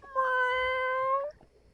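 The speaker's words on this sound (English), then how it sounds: "But Bruce the cat" A house cat gives one long, clear meow lasting about a second. It is close and loud, then fades into quiet room noise.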